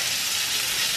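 Bacon sizzles and crackles steadily in a frying pan for homemade burgers, a dense close hiss with no talking over it.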